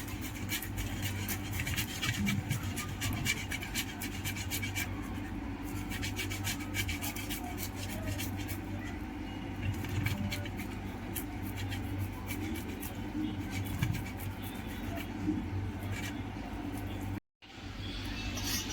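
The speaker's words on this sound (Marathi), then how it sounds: "सर्वप्रथम बटाटा किसून घेऊया." Soft rasping scrape of a boiled potato being grated, a quiet continuous rubbing with small irregular strokes, close by, briefly cutting out near the end.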